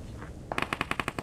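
Automatic gunfire in the mobile game BGMI, a rapid burst of about eight sharp evenly spaced shots that starts suddenly after a short quiet moment, loud and close.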